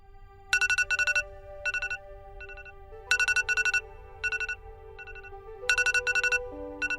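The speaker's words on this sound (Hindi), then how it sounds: "मेरा अलार्म बज गया।" An electronic phone alarm rings in repeated bursts of bright, chiming tones, a steady melodic pattern playing loud and alone with no talking.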